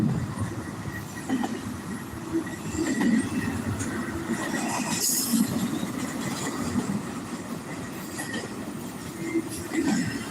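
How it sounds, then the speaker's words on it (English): A long freight train rolls past at a steady pace, with rumbling wheels, rhythmic clacks over rail joints and occasional squeals of wheels on track, moderately close and continuous with no talk. "Boy, this has been one long train right here,"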